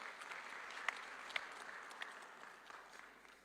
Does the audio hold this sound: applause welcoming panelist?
yes